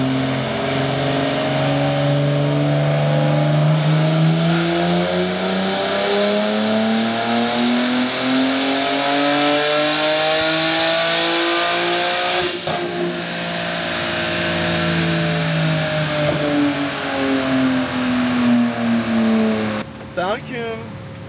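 A car engine revs hard on a dyno, its pitch rising and falling in long sweeping surges and staying loud and close throughout, with a sharp mechanical crack partway through. People talk over it.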